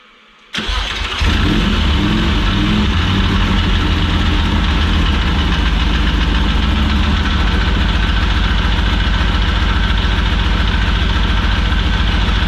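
A MOTUS motorcycle engine, a big V-four that sounds like a big-block Ford, cranks and catches after a short silence, then settles into a loud, deep, lumpy idle that rumbles steadily close by.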